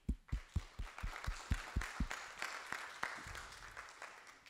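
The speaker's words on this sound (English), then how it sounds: "And applause to you, actually." Scattered hand claps ring out at a conference session, starting as distinct sharp claps and blending into light, brief applause from a small group.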